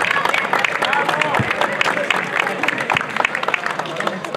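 A village event crowd in Trnovče applauds a cultural society's president, dense clapping and crowd noise running throughout at close range, mixed with babble.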